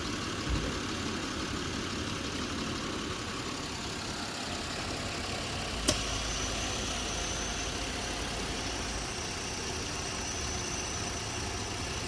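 A 2011 Buick engine idles with propane fed into it, a quiet, steady low hum with a slightly uneven run and one brief click midway.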